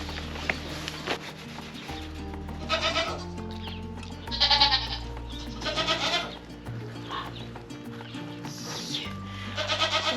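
LaMancha goats on a farm, bleating in several loud, close calls spread through the stretch over steady background music, with no talk.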